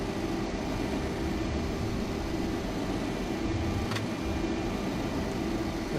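Airbus A310 jet engines in Flight Simulator X on approach, a steady broadband whine and rumble holding at an even, moderate level without clear change.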